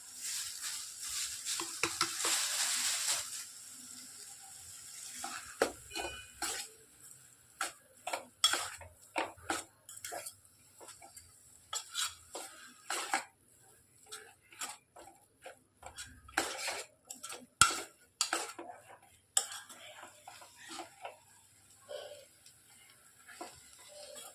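Fenugreek greens and grated coconut are stir-fried in a pan for a poriyal. A metal spatula scrapes and clinks in irregular, close strokes over a soft sizzle, with no talking.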